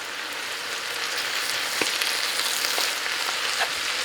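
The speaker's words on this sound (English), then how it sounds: "Y'all, it's just bacon drippings. And I'll just put, look at that. And then we're gonna let it fry in that." Collard greens frying in bacon drippings in a pan give a steady, close sizzle with faint crackles and small pops throughout, no voices over it.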